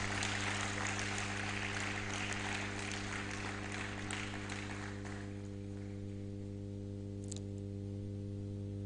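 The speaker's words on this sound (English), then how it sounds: "Please a round of applause for him." Applause at a university anniversary lecture honouring a vice chancellor: a crowd claps in a hall, fairly distant, fading away after about five seconds and leaving a steady electrical hum with a single faint click.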